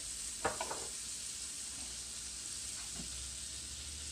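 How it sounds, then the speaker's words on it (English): Two tablespoons of butter melt in a pan over medium heat for a keto cream of mushroom soup, giving a steady soft sizzle with a few faint clinks early on. "So in this pan, I have it on medium heat. I'll be adding my 2 tablespoons of butter."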